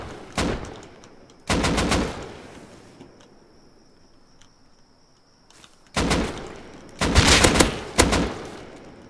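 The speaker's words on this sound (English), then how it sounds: "Fuck, I shot a wall." Gunfire in the survival game Rust rings out in sharp loud bursts: a single shot, then a short rapid string, a quiet pause with faint insect-like ambience, then several more rapid-fire volleys close by.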